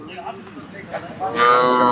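A cow at a native cattle market in Palayakottai gives one loud, drawn-out moo close by, after faint background voices and market noise.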